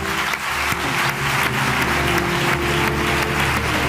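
Studio audience applause on a comedy talk show, a dense continuous wash of clapping over a low steady hum, even in loudness from start to finish.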